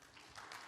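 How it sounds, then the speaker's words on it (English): Brief burst of audience applause at a round table gathering honoring former president Kirk, a dense crowd clapping that swells slightly toward the end. "Let's give also a round of applause to Kirk"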